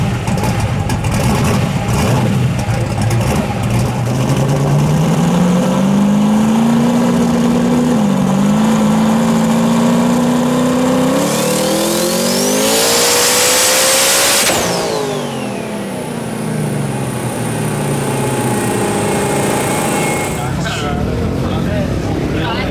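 A destroked 400 small-block Chevy engine with a 102mm turbo runs a full dyno pull at 30.3 pounds of boost, its loud roar climbing steadily in pitch before cutting off, with a voice speaking over it.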